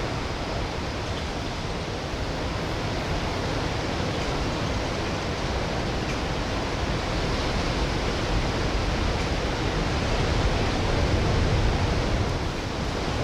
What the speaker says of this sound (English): Let's listen to the waves for 15 seconds